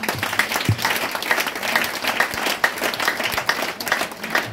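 A church congregation applauds to acclaim the Lord, steady dense clapping from many hands with a fairly even rhythm, close and lively throughout.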